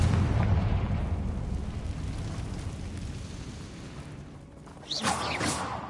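A Confringo blast spell explodes in Hogwarts Legacy, a loud booming burst at the start that rumbles and decays over several seconds, followed by a sharper crackling flare near the end.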